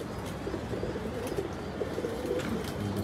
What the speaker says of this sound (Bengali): 5 কিলো থেকে বাবরা কবুতর